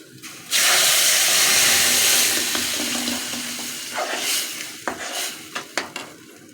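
Tomato paste goes into a pan of frying tomatoes for Egyptian koshari, setting off a loud, sudden burst of sizzling that slowly fades while a utensil stirs and scrapes through the sauce with a few sharp clinks.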